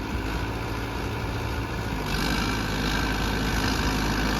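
A Sonalika 750 III 70 HP tractor engine idles with a steady low rumble, close and continuous, its tone shifting slightly halfway through.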